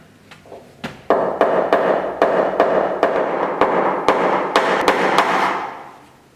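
A tool taps down a dent in a Honda Civic rail with a rapid series of about fifteen sharp metallic knocks at an even rhythm, loud and close, with a ringing tail after each strike.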